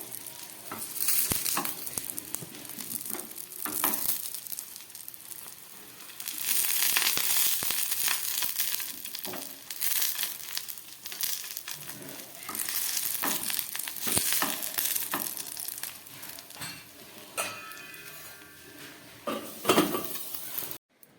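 Ash gourd leaf fritters sizzle steadily in hot oil, with frequent scraping and stirring clatter against the pan throughout, close and fairly loud with no talking.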